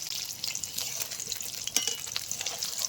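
Eggs frying gently in lightly heated oil in a pan, a soft continuous sizzle with occasional light scraping and stirring close by, no voices.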